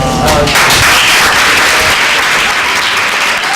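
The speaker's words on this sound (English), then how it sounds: "would you please give a warm round of applause to the myth, the man, the legend, David Alan Moss." Talk show studio audience applauding loudly and continuously, dense clapping from a full room right after the host's introduction, close and sustained with a brief voice at the start.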